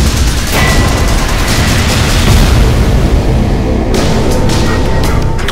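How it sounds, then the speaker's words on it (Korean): Dense, loud explosion effect in a Korean sci-fi thriller trailer, a sustained roaring blast with rumbling debris that fills the whole stretch, with a brief renewed burst near the end. "영수가 폭발하는 것 같아"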